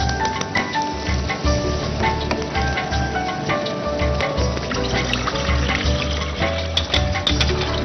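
Water pours steadily into a cooking pot on the stove while a pulao is being prepared, a continuous near trickle and splash with a soft sizzling hiss beneath it, with no talking.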